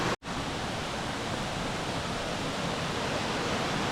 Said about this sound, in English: let's head on up here and get a little bit closer to this waterfall